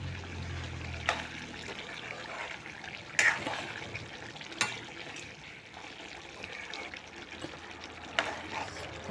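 Boiled water trickles and splashes quietly into a pan of cooking jackfruit-seed vegetable, a soft, continuous liquid patter with a few sharper clinks along the way.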